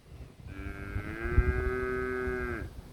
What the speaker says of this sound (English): But the cows are doing good,